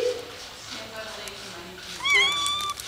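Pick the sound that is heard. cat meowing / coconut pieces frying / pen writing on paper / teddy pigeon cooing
cat meowing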